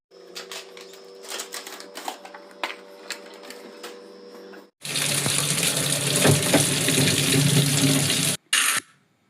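Fruit being rinsed under a running kitchen tap in a home, a steady loud gush of water over several seconds after quieter clicks and handling, ending in a short final burst.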